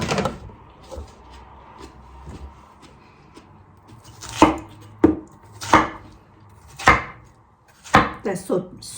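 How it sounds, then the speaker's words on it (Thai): A knife chops watermelon into pieces on a cutting board in a home kitchen, with a few soft taps early on, then louder, irregular thuds and a quick cluster of cuts near the end. "ก็จะหั่นใส่กล่องไว้นะคะ"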